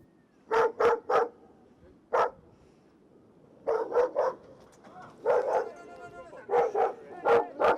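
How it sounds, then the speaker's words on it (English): A large dog in an Afghan compound barks in close, loud bursts, mostly clusters of two or three sharp barks separated by short pauses, with a couple of single barks among them. "when they encounter a large dog, the stress comes to a boiling point"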